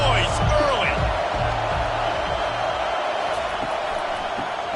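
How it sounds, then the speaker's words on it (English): Stadium crowd noise in a college football video game, a dense steady roar with scattered whoops and thuds, heard under a commentator's voice. "This crowd bringing the energy and noise"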